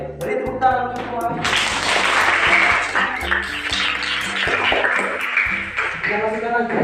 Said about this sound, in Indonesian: Beri tepuk tangan untuk semua.